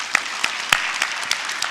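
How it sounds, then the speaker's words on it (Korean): A church congregation at a Sunday service applauds with a short, moderately loud round of scattered, uneven claps. "여러분 스스로를 위해서 한번 박수 한번 치죠."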